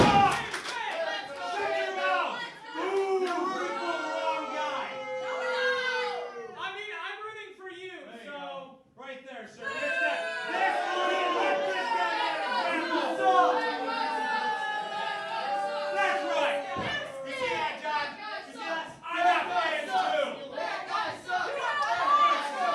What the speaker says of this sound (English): The crowd clearly against the one fan who's the Brother Will Vendetta.